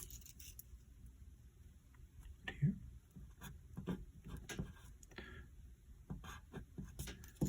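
A pen scratches short strokes on paper while writing out a grid, faint and close, in intermittent taps and scrapes under quiet talk.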